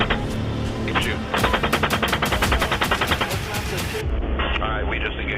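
Sustained machine gun fire in a combat engagement, rapid evenly spaced bursts loud and close, with a sudden drop to quieter background near the end and faint voices underneath.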